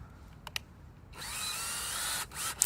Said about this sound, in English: I think it's a 5/32 inch drill bit, smaller size, and I just picked that size.